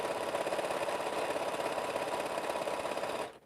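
Close-up steady hum and rapid stitching rattle of a sewing machine joining quilt pieces, running continuously before stopping abruptly at the end.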